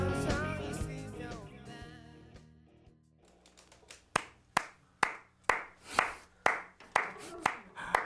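After music fades in a radio studio, a few people clap slowly and evenly, distinct single claps spaced about half a second apart, close and fairly faint.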